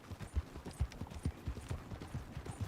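Rhythmic clip-clop of horse hooves in a video game, at a steady trotting pace, moderately quiet, with faint background ambience.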